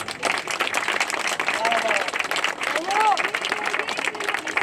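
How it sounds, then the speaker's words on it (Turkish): Outdoor crowd at a seaside accessibility festival on Victory Day claps vigorously and steadily, dense loud applause with voices and cheers rising through it. "Onları şöyle kuvvetli bir alkışlayın bakalım."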